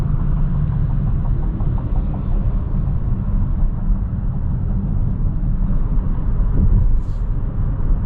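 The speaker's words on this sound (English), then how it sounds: "let you enjoy the ride and hear how quiet it is in here, or loud" Inside a car cruising on a highway, a steady, loud low road and engine rumble fills the cabin for the whole stretch with only slight swells, and no one speaks.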